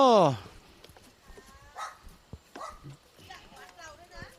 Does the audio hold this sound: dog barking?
yes